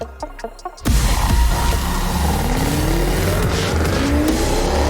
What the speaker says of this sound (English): that V8 sound